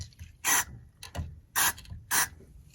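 Several short bursts of scratchy, rasping friction as the control knobs of a 1956 Airline WG 1637A antique radio, sprayed with contact cleaner, are twisted back and forth, separated by brief quiet gaps.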